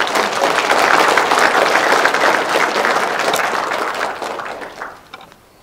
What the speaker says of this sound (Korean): 우리 회원들하고 같이 힘찬 박수로 격려합니다